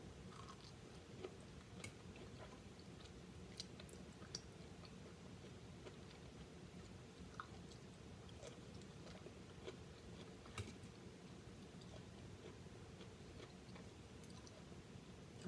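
Soft, close chewing while eating balut and pickled okra, with faint wet mouth sounds and scattered small crunchy clicks spread through a quiet stretch, and no talking.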